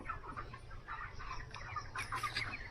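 Chickens cluck softly in a poultry shed, a scattered, continuous mix of short calls over a low steady hum.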